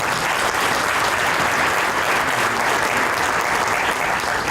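A graduation ceremony crowd applauds steadily and loudly, a dense wash of clapping that holds throughout without pause.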